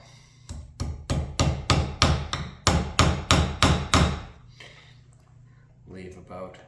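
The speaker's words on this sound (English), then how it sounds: "make sure that you're in the center of the last when you're driving your nail." A run of eleven sharp, evenly spaced hammer blows drives a nail through an insole held on a shoe last, loud and close, followed by quiet shuffling and a brief voice at the end.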